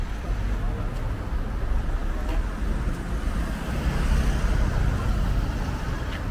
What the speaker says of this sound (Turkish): Burası trafik çok var burada.